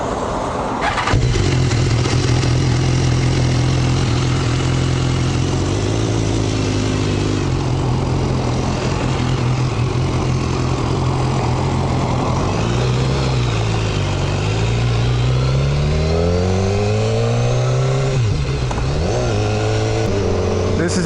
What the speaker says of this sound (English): It's got the awesome exhaust.